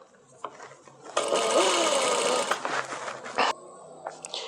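Sewing machine stitching a pocket on a shalwar, a steady close whirring run of about two seconds that starts and stops abruptly, with softer handling noises before and after.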